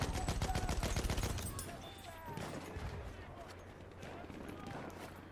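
Rapid gunfire in the video game Battlefield 1 on a map set in Tsaritsyn, a burst of close automatic shots at first fading into softer distant fire and battle noise, with a voice talking over it.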